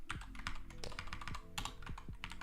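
Rapid keystrokes on a computer keyboard while entering a task name in a test app, a dense run of close clicks over a constant background hum, quiet overall.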